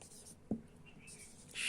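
Writing on a board during a grammar lesson: a single sharp tap of the pen or chalk against the board, followed by faint, scratchy strokes and a louder squeaking stroke at the end, close by with no talking.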